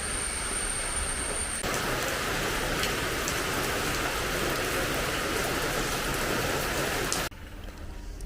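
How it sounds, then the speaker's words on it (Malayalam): Steady monsoon rain pouring in the morning, a dense continuous hiss of drops on surfaces that stays even for about seven seconds before dropping to a quieter patter. "രാവിലെ മഴ, കാലവർഷം."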